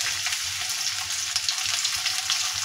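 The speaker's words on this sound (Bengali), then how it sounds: "তো এখন আমি পেঁয়াজ দিয়ে দিই।" Onion hitting hot oil with dried chillies in a wok, a loud, dense, even hiss of frying that holds steady throughout, heard close and alone without any talking.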